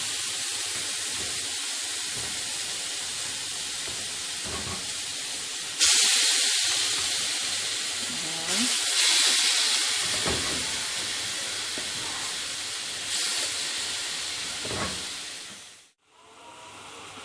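Chicken pieces dropped into a hot pan for a chicken masala, giving a loud, steady sizzling hiss that swells in bursts as more pieces go in, with no talking.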